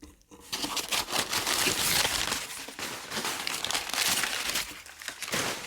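Crumpled packing paper being pulled from a shipping package crinkles steadily and loudly up close, a dense rustling texture broken by sharper crackles for several seconds, with no talk over it.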